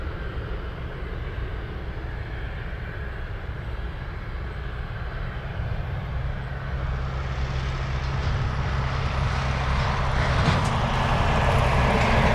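Alaska Airlines jet departing Anchorage, a steady broadband engine roar that builds gradually and grows louder toward the end, with no voices.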